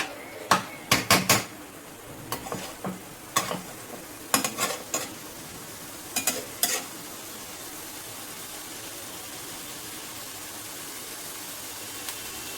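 Vegetables frying in a pan are stirred, giving a soft continuous sizzle punctuated by a series of sharp spoon scrapes and clacks in the first half, then only the quieter fry.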